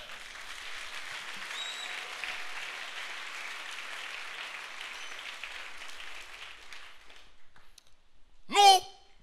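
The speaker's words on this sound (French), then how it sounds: "Est-ce qu'on peut acclamer le Seigneur?" A church congregation at a worship service breaks into loud, sustained applause that runs for about seven seconds before fading out, followed by a single brief, sharp sound near the end.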